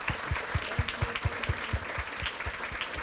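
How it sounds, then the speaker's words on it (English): Rhythmic, evenly spaced claps from an audience at a talk, a steady beat of loud hand claps over a wash of scattered clapping, moderately close. "Let's give him a round of applause"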